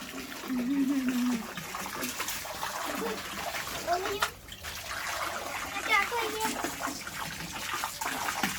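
Water splashes and trickles in a swimming pool during a playful water fight, light irregular sloshing under children's voices, laughter and excited talk.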